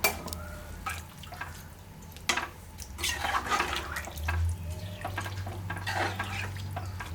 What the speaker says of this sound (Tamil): ஒரு டம்ளருக்கு 1/4 டம்ளர் அளவுக்கு தான் தண்ணி ஊற்றணும்